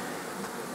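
Honeybees swarming inside a hive box give a dense, steady buzzing hum, close and continuous through the brief moment.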